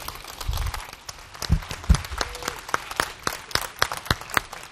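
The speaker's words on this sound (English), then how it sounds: "One more round of applause for Colin" Audience applause at the FlightSimExpo 2024 presentation hall, distinct sharp claps from nearby hands over a thinner crowd clapping, with a couple of low thumps early on, sustained throughout.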